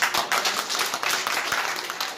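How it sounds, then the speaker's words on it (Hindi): Continuous clapping from a crowd at a training camp in Lucknow, a brisk dense patter of hands at moderate loudness throughout. "इसके लिए मैं जोरदार तालियां बजाऊंगा।"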